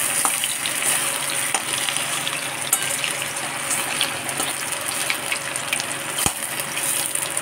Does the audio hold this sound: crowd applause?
no